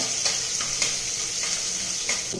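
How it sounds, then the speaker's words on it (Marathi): Ginger garlic paste sizzling in hot oil with cumin seeds, a loud continuous hiss with rhythmic stirring scrapes pulsing through it. "त्यानंतर या ठिकाणी मी आलं लसूण पेस्ट घालत आहे"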